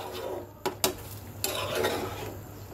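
Mixed vegetables with Malabar spinach are stirred in a pan: soft scraping and shuffling with a few sharp clinks of a utensil against the pan, faint and close.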